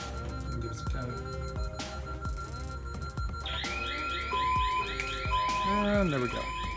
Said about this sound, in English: They forgot to turn the alarm off.